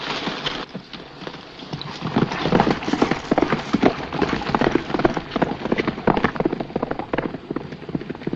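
A horse's hooves clip-clop steadily and close by, a dense continuous patter of hoofbeats over background noise, with faint voices in places.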